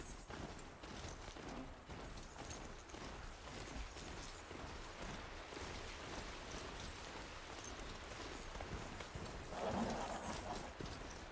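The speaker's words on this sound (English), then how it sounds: "Thank you, Robo Horse." A robot horse mount gallops through Horizon Zero Dawn's Frozen Wilds, a steady, faint patter of rapid hoofbeats running continuously at low volume.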